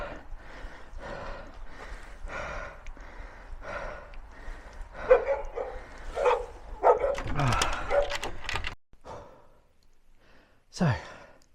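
Puppies bark at close range after an outdoor run, several sharp, uneven yaps and woofs spread across the stretch, with heavy breathing and sighs mixed in.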